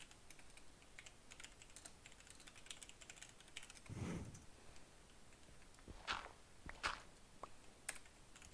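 Quiet typing on a computer keyboard, faint scattered key taps against a low background hiss with a few louder clicks toward the end.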